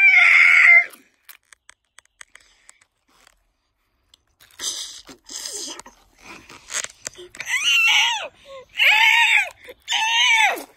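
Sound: cartoon Triceratops screaming in fury

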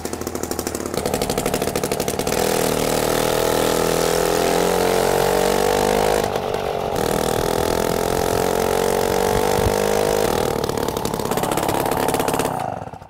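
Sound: vintage Dinky Cycle collapsible motor scooter engine running

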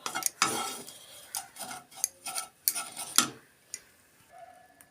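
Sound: stirring grated coconut while roasting it in a pan

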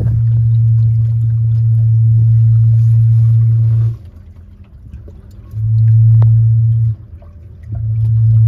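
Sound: swing keel noise on a 1974 Cal 21 sailboat

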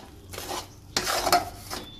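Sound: stirring sesame-peanut mixture into boiling jaggery in a pot

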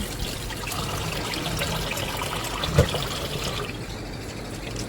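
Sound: washing rice in water

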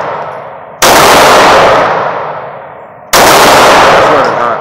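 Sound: Glock pistol gunfire at a shooting range

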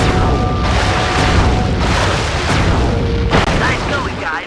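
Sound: cannon firing in video game Sly Cooper 3

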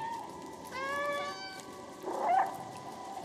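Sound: cat meowing in the video game Stray

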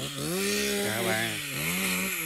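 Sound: saw cutting a tree

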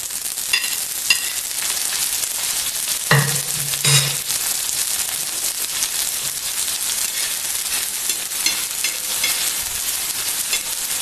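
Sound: onion frying in a pan

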